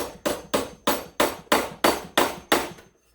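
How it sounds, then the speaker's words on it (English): Eight sharp hammer blows tapping staples partway in to hold electrical wire against wooden studs, struck at a steady, even rhythm, close and clear, with a short quiet after the last strike. "I'm not hammering these right in because I'm going to eventually be taking these staples out"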